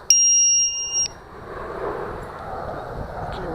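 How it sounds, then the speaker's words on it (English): Battery alarm on a Walkera V450D01 RC helicopter: a loud, steady high electronic beep for about a second, followed by outdoor breeze noise. "So I'm gonna go ahead and jack in the battery alarm."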